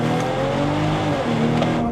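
A Stage 2 tuned 560 hp BMW X5 xDrive45e in sport and manual mode accelerates hard, with a loud, steady engine drone heard from inside the cabin and no talking.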